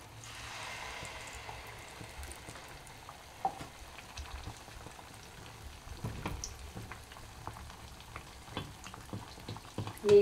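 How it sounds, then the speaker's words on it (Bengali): Malpua batter fries in hot oil in a pan, giving a continuous soft sizzle and bubbling with occasional louder spatters and a clink near the end, heard close up and alone. "আবার দুটো আমি ভেজে দেখাবো"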